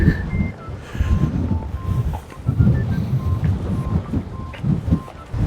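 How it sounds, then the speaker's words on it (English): Gusty wind at Tal-Imgħarqa Bay, Mellieħa, buffets the microphone in heavy low rumbles that rise and fall throughout, with faint beeping tones in the background. "It's very windy today."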